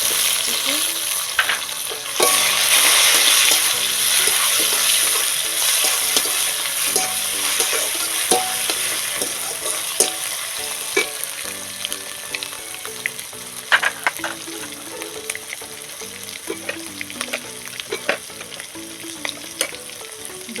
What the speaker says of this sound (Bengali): তেলের মধ্যে এখানে দিয়ে দিচ্ছি মশলার মধ্যে টমেটোর